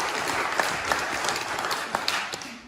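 An audience at a talk breaks into loud, sustained applause, a dense wash of many hands clapping close by with a few sharper individual claps standing out.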